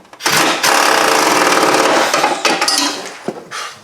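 A pneumatic impact gun, turned down, snugs up trailing arm bolts on a 2000 Ford Focus rear subframe, giving a loud, sustained rattling burst followed by a few shorter hammering bursts nearby.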